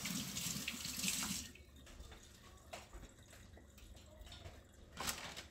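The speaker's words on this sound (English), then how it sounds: "Let's wash our hands." Tap water gushes loudly into a sink for a moment while hands are washed, then cuts to quieter splashes, drips and handling noises.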